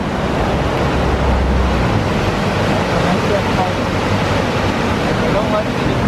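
Water rushes hard beneath a walkway, a dense, constant roar close by, mixed with wind buffeting the microphone and no break throughout.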